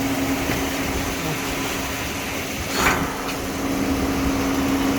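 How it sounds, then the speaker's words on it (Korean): Volvo 850 engine running at a steady idle just after an exhaust and catalytic converter repair, a constant low hum with a faint tonal whine throughout and a brief swell near the middle. "자, 조립하고 시동 걸고 소리를 한번 확인합니다."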